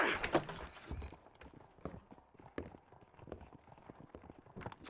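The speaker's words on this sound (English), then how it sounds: "I asked the Stas to bring the horses around front." Horse hooves in the western video game Red Dead Redemption, a scatter of irregular clops and thuds at modest volume, faint and uneven, with a brief louder burst at the start.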